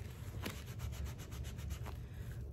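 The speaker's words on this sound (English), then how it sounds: "Just using a plain old baby wipe." A baby wipe rubbing over a dirty nylon bag makes a rapid, rhythmic series of soft scrubbing strokes, close and fairly quiet, with no talking.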